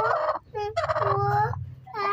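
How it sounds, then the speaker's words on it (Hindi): A pet village hen sitting on eggs gives a run of several loud, close, throaty calls in quick succession, with short pauses between them. "ये देखो व्यूवर्स हमारी कितनी प्यारी मुर्गी"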